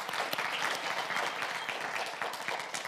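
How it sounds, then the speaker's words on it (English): An audience at a university Three Minute Thesis competition final applauds with steady, dense clapping that holds at an even level throughout, with no voices standing out. "Just joining in a round of applause with me for Makanaka again."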